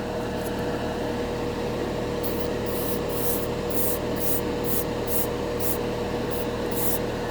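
An airbrush with a large needle sprays unthinned Vallejo Metal Color acrylic metallic paint, giving a steady close hiss with a faint constant tone and a series of brief, brighter airy bursts in the second half.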